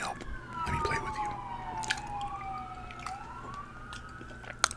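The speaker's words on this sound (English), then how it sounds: "cop car / ambulance outside speeding by." A police car or ambulance siren wails outside on a Chicago street as the vehicle speeds by, its rising and falling tone fairly faint and distant beneath indoor room noise with a few sharp clicks.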